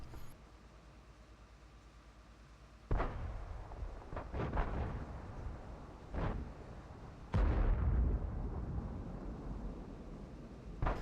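Tank gun firing in the video game World of Tanks: two heavy, booming cannon shots several seconds apart, each with a deep rumbling tail, between softer impacts and battle noise.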